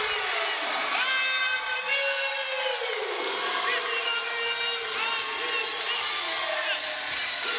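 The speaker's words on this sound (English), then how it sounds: "This crowd's going nuts." Wrestling crowd in Hazleton cheering wildly after new champions are crowned, a dense sustained roar of shouts, whoops and yells that stays loud throughout.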